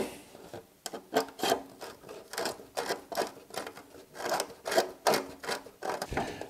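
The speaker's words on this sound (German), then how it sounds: "Ich bohre übrigens immer abwechselnd von außen und von innen." Repeated short bursts of grinding and rasping at close range as a small drill bites into the plastic body of a Tamiya VW Golf GTI MK2 model car, with brief pauses between runs.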